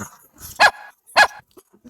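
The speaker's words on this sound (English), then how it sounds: "the puppy became aggressive because I was talking about wheat" Puppy barking, two sharp loud barks about half a second apart, close by, with faint quiet sounds in between.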